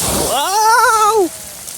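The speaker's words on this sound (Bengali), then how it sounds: "কি স্পিডে পানি পড়লো" Water sprays and splashes down at a free splash park in Edison, New Jersey, a steady hiss of falling water under a voice that rises and falls in a drawn-out excited exclamation.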